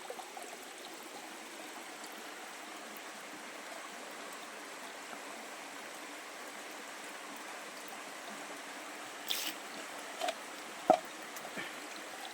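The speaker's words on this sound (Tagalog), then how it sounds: "Medyo dako ang tubig sa sapa, oh." A spring-fed creek in a forest flows with a steady, soft trickling rush that stays even throughout. A few faint clicks and taps come near the end, and no voices are heard.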